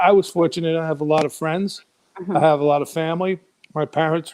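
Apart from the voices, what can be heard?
No distinct noise like a dog, phone or traffic.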